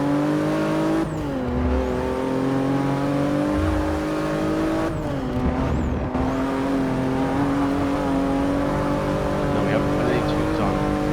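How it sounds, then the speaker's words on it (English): Porsche race car in the Forza 6 video game revving hard at Monza, a loud, sustained engine whine that climbs through rising pitch sweeps and drops briefly at two gear changes, continuous and close throughout. "This Porsche ready to rumble"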